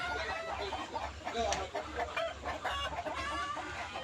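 Tiger chickens cluck on a poultry breeding farm, a soft, scattered chorus of calls from several birds over a low, pulsing background hum, fairly faint and distant.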